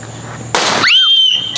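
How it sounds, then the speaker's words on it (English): A Fourth of July firework goes off nearby at a backyard party: a sharp, loud burst followed by a long, high whistling shriek, then another pop at the end. "The fireworks go to us."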